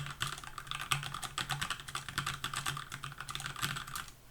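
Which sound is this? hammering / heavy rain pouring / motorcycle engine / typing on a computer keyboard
typing on a computer keyboard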